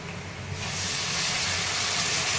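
Sprouted horse gram (hulga) frying in a pan with onion, garlic, cumin, mustard seeds, chutney and turmeric, a loud close sizzle that swells into a dense steady hiss after the first half second, with no talking.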